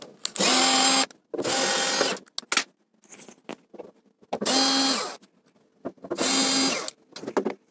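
A power screwdriver backs four screws out of the inner cover of a home combi boiler, giving four loud whirring bursts of about a second each with quieter handling clicks and rattles between them.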